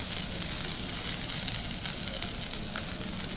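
Steady, close sizzling of food frying in a hot pan, a continuous crackling hiss with no talking.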